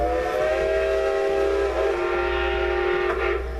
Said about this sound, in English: our engine's going to blow its whistle at the crossing